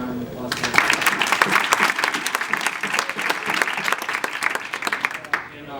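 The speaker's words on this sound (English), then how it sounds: "So we do a round of applause." An audience at a team banquet claps steadily for about five seconds, dense close applause that starts abruptly and fades out, with a voice speaking at the start.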